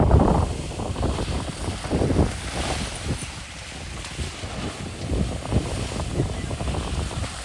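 A car drives off-road through a flooded pothole, with churning, sloshing water and bursts of wind buffeting close to the microphone, a continuous rough rumble throughout.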